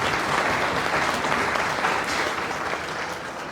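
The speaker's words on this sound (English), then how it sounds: "Please give him a big round of applause." An audience claps warmly, a dense wash of applause that holds steady and then slowly tapers.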